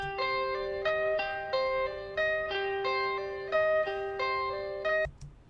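A clean, bright guitar loop from a sample library picks out a repeating rhythmic figure of plucked notes with regular accents, playing alone at moderate level before stopping suddenly.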